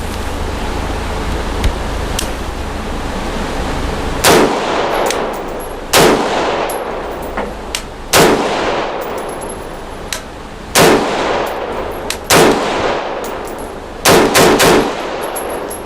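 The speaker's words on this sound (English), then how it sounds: "we're just going to pop off a few rounds." A custom-built gun firing a few rounds outdoors, about seven loud, sharp reports spaced roughly two seconds apart, each with a brief ringing tail over steady wind-like background noise.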